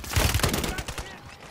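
Gunshots in the Call of Duty battle royale map Rebirth Island: a quick cluster of sharp, punchy shots near the start, followed by scattered fainter cracks as the mix settles.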